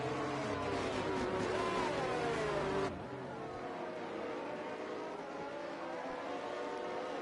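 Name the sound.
race cars and safety car driving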